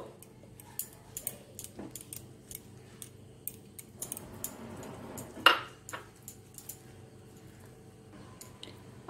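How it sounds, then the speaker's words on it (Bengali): A spoon stirs powdered milk in a pan over a low gas flame, giving quiet, scattered clinks and soft scrapes with one sharper knock near the middle. "ঠিক যেমনটা দেখাচ্ছি তেমন করেই মেশাবো"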